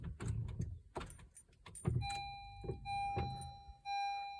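A 2020 Honda CR-V with an intermittent no-start fault has its start button pressed in the cabin: muffled clicks and thumps, then steady electronic warning chimes and a low hum, faint and close.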